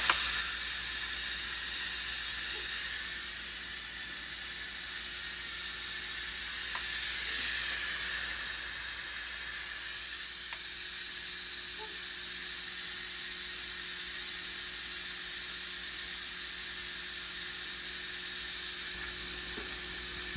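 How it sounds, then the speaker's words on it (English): Steam hissing steadily out of an Instant Pot pressure valve during quick release after cooking Spanish rice, a loud continuous bright rush lasting throughout, swelling slightly midway then easing a little and holding on alone. "I'm just gonna go ahead and release the pressure. So just be careful when you do this because all the steam comes out."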